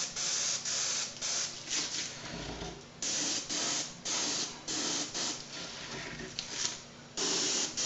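Aerosol spray paint hissing onto the ear cap of a Boba Fett helmet, delivered in repeated short bursts of about a second each with brief gaps between them, close and loud.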